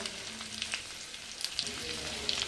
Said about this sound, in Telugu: కరివేపాకు కూడా వేస్తున్నాం వేసుకొని మొత్తం కలుపుకొని